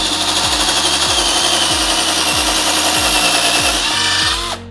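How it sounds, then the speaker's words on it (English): A Harbor Freight DrillMaster cordless drill bores a larger hole, its motor whining steadily at close range with a repeating rhythmic pulse as it bites, then cutting off abruptly at the end. "You can also use this drill for drilling much larger holes"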